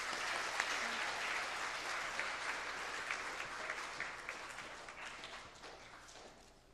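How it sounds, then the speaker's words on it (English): Sustained audience applause fills a conference hall at a journalism writing conference, dense steady clapping from a large crowd that slowly tapers toward the end, with no talk over it. "Please help me give a big round of applause to Dr."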